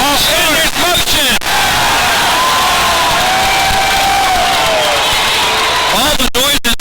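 An indoor arena crowd at a football game roars and cheers in a loud, sustained wave of shouting and whistles that echoes through the building.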